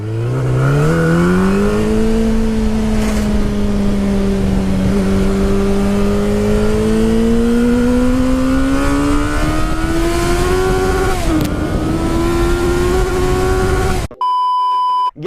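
A Yamaha Fazer 800 (FZ8) motorcycle engine revs continuously through an Akrapovic exhaust with catalytic converter removed, rising slowly in pitch with a loud, raspy note, ending abruptly with a short electronic beep.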